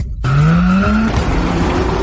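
A car brakes hard and skids to a stop, with a loud, sustained tire squeal that rises slightly in pitch and lasts nearly two seconds over engine rumble.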